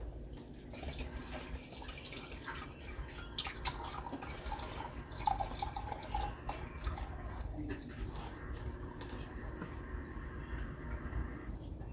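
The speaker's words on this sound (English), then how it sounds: "we're going to pour 250 mil in this measuring cup" Pyrolysis oil poured into a measuring cup to about 250 ml gives a faint, continuous liquid trickle with scattered drips over a low, steady background.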